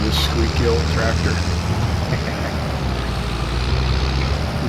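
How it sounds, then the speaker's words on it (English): A squeaky old tractor in Farming Simulator 22 rumbles steadily with a loud low engine drone and faint higher squeals, the noise continuous and close throughout. "I love this squeaky old tractor."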